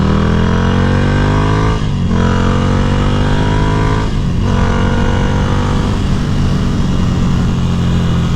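Ducati Scrambler motorcycle with a Competition Werkes slip-on exhaust, riding steadily with a loud continuous throaty engine drone that rises in pitch through the gears, with two brief dips at shifts, heard from the rider's position with wind noise.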